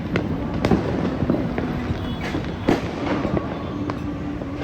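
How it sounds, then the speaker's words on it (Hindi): Diwali night firecrackers in Delhi crackle and pop continuously against a dense, noisy background, with a few sharper bangs standing out among the steady distant bursts. "ये पटाखा कुछ कहने को है"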